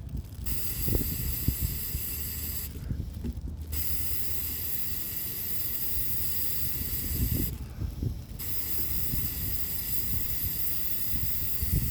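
An aerosol spray can hisses loudly and continuously in long bursts, with two brief pauses between sprays and faint clicks underneath.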